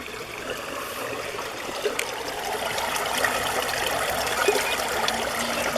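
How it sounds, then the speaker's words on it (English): Water trickles and flows steadily through the eroded foundation of an old pool at Warm Springs, a soft continuous babble that stays even throughout and swells slightly toward the end. "water's actually flowing through right now"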